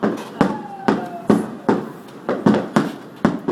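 Sharp firework bangs burst near a ship at sea, seven or eight distinct cracks spaced unevenly over a few seconds, moderately loud with some reverberation and no speech over them.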